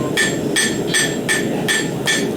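Hammer blows from a checkered-face hammer ring out about every 0.4 seconds, each a sharp metallic strike over a steady background din, six hits in a row.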